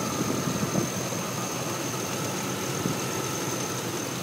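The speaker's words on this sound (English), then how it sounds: "That's a clean engine." A 2004 Chevrolet Silverado extended cab with a performance exhaust and 76k miles idles steadily, a smooth, even hum with faint whine, recorded close with no talking.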